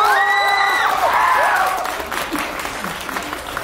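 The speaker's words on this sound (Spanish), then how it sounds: "El aplauso para el número uno" Audience applause for the first contestant at a lively show in Zapopan, a dense crowd clapping with some whoops, strongest at the start and easing slightly, while a voice talks over it.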